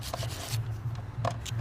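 Wet aluminum foil scrubbed against rust, close-up rhythmic rubbing strokes, quiet and gritty, repeating several times in quick succession.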